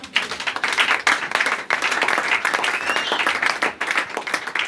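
A church congregation applauds God with dense, steady clapping and some cheering, sustained and fairly close throughout.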